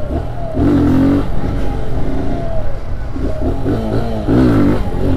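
A Honda Z125 motorcycle engine revs hard during wheelies and rolling burnouts, loud and close, with rising and falling pitch as the throttle is worked, steady engine roar throughout and no talk.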